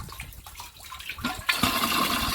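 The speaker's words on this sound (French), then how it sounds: "je vais la mettre en route pour vous montrer ce qui se passe quand la pompe est activée" A Bosch pump for a rainwater collection kit switching on, a low watery gurgle giving way to a loud, steady rush of pumped water gushing out with force, close and alone.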